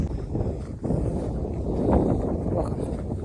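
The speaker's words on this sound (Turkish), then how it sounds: "Evet rüzgar var kusura bakmayın." Steady low rumbling wind buffeting the microphone over open, empty farm fields in a Russian village, continuous throughout with a slight swell near the middle.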